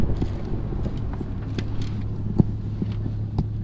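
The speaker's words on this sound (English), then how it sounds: "tighten the fuel rail back down, fire it up, and see how it idles" Turbocharged Honda Accord engine idling steadily at close range after fuel rail work, a low even rumble with a few small ticks and one sharp clack near the middle, no talking.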